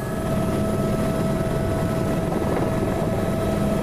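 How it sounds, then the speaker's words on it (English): Helicopter lifting off near Mendenhall Glacier, a steady loud rotor and turbine drone that holds constant throughout, close by with no speech. "We're the second chopper off and we swing away towards the silted up arm of the Juneau Channel."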